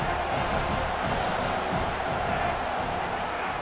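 Stadium crowd in the video game EA Sports College Football, a dense, steady roar of cheering fans filling the whole stretch at constant loudness, with no single voice standing out.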